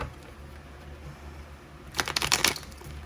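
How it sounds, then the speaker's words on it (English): A deck of tarot cards being shuffled, a quick burst of dense riffling clicks lasting about half a second, close and fairly loud over a quiet room. "So we're going to shuffle our deck."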